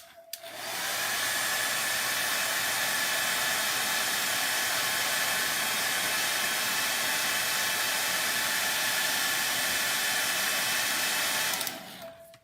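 A hair dryer blows on freshly painted wooden boards, switching on into a loud steady whooshing roar held close for about eleven seconds before cutting off, with no talk.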